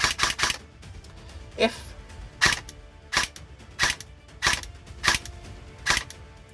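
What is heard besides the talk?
airsoft AEG firing in semi-auto with a blocked barrel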